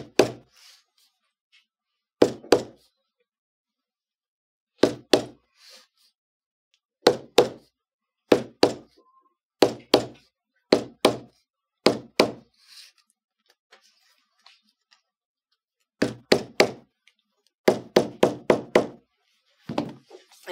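Leather for a traditional saddle bag is hammered on an anvil in sharp, loud, close blows, single and in quick clusters, separated by silent pauses.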